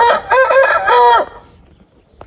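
A red young rooster crows once, loud and close, a drawn-out call lasting about a second before fading into quiet.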